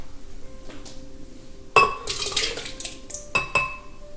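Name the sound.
berries being put into a blender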